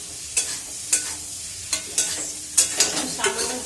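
Spice paste with green chillies frying and being stirred in a pan, a steady sizzle broken by repeated scraping strokes of a spoon about every half second, close and fairly loud with no talk.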